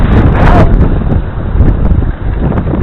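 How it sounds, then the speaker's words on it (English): A strong gust of wind buffets the microphone outdoors near a creek and bridges, a loud continuous roaring rumble that swells early on and stays heavy throughout. "A big gust of wind will just catch your hat."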